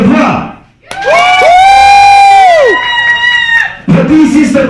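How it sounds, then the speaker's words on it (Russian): An audience at a contest cheers and whoops for a contestant, with loud, sustained voiced shouts sliding in pitch and a burst of crowd noise at either end. "Итак, аплодисменты участнику номер 2."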